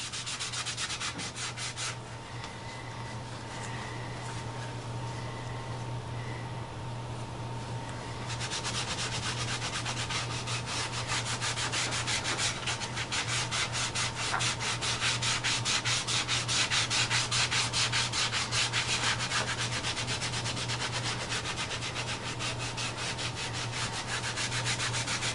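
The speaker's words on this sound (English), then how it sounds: "I can see all of my scratches that I still need to sand off." A wooden guitar top is sanded by hand with long, steady rubbing strokes that scratch continuously and closely for the whole stretch, with no talking.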